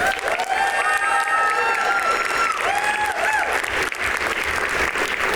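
An audience at an awards ceremony applauds and cheers for a nominee: dense, steady clapping fills the room with a few whoops and voices rising over it, loud and sustained throughout.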